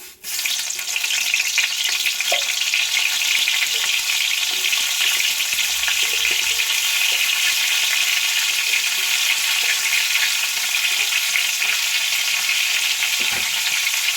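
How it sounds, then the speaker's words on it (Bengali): Bitter gourd slices fry in hot mustard oil in a wok, giving a loud, steady hiss of sizzling that holds continuously throughout with a few faint stirring knocks underneath. "কড়াইয়ের তেল এখন গরম হয়ে গেছে দিয়ে দিচ্ছি করলাগুলো"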